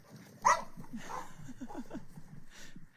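Wanda the dog lets out barks and whimpering yips at close range, with one sharp loud bark near the start followed by softer irregular vocalizations and faint background voices.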